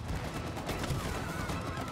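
Continuous rapid gunfire from the co-op video game It Takes Two, a dense, steady barrage of shots that carries through the whole span at an even loudness.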